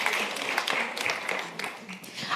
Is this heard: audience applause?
yes